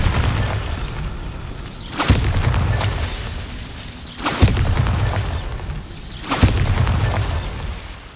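The Bombarda blast spell from Hogwarts Legacy, three heavy booming explosions at about two-second intervals, each a sharp crack followed by a loud rumbling roar, with no voices.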